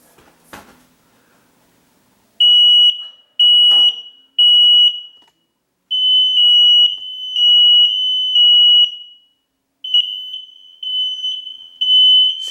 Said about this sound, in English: now I've got to reset the smoke alarm